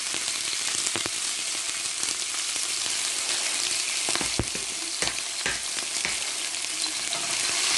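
Onions dropped into hot oil for Nigerian fried rice give a loud, continuous sizzle with sharp crackles and pops, close up and with no talking.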